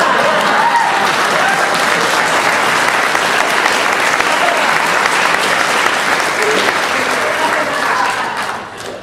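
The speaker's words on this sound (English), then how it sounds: "It says applause for applause." Sustained applause from a graduation audience after a valedictorian's MBA speech, a broad wash of many hands clapping at steady loudness that fades slightly at the end.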